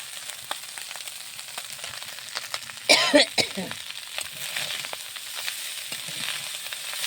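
Fish fry in a wok with a continuous crackling sizzle; partway through, a brief louder burst of spattering and scraping marks the flip, and the frying then settles back to a steady hiss.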